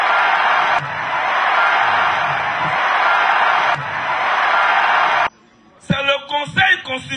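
Crowd at a political rally in Anono, Côte d'Ivoire, clapping and cheering loudly for several seconds in a dense, sustained roar, then cutting off briefly before voices and shouts return.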